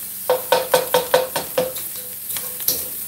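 Sausage browning in a pan with onion nearby: a series of about ten scraping, knocking stirs against the pan over a faint sizzle, close and moderately loud, evenly paced then tapering off.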